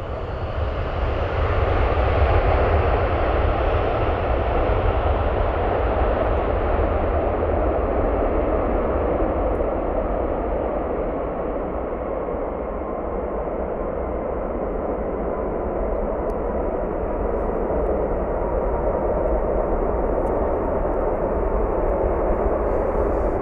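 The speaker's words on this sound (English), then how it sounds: "It's a 757 bringing the Cleveland Browns back into town from Baltimore." A United Airlines Boeing 757 jet passes at Cleveland Hopkins airport, a loud, steady engine roar that holds across the whole stretch and slowly eases as the aircraft moves away.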